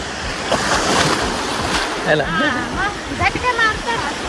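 Sea waves wash onto a beach at Vengurla during high tide, a broad, steady surf rush with occasional swells, while people talk and call out over it.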